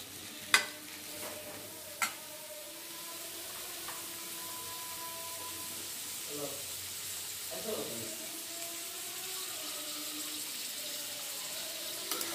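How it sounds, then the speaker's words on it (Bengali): Sweet pumpkin and a piece of potato fry in oil with a continuous sizzle, opened by two sharp utensil knocks and followed by occasional scraping stirs, while a voice murmurs faintly in the background. "ক্যানে তেল দিয়ে যে মিষ্টি কুমড়ার সাথে এক পিস আলু দিয়ে ভালো করে একটু নেড়ে চেড়ে তেলের মধ্যে ভেজে নিচ্ছি"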